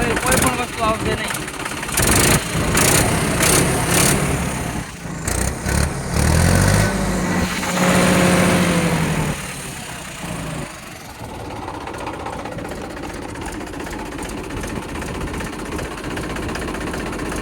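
Tractor engine running near a person who speaks over it for most of the time, with a loud steady diesel rumble that revs and then settles into a quieter idle.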